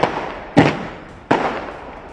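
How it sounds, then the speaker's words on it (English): Firecrackers burst during election result celebrations in Mumbai, two loud sharp blasts about 0.7 seconds apart, each trailing off into crackling noise and a lingering wash of sound. "So these firecrackers will go."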